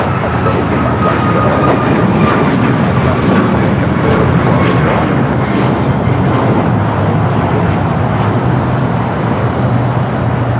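A United Boeing 737 MAX 8 jet at Los Angeles airport makes a loud, sustained engine roar that stays even throughout, with faint whining tones and distant traffic hum beneath.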